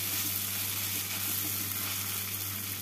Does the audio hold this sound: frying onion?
yes